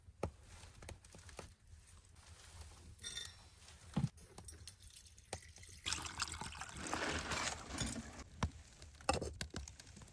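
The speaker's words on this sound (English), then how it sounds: "the traveler adds clean water to the pan for cleaning, ready for the next tasks" Clean water trickles and splashes into a pan inside a snowy wilderness bushcraft bunker, quiet at first, then a louder, sustained pour with a few sharp knocks and clinks around it.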